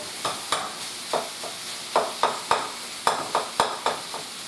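Leftover taco meat and pasta being worked with onion in a frying pan, with a rhythmic series of close scraping stirs over a soft sizzle and no voices.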